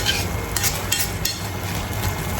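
Chicken gravy simmering and frying in a pan for a Goan crispy chicken dish, a steady low sizzle with occasional stirring scrapes, close and continuous with no talking.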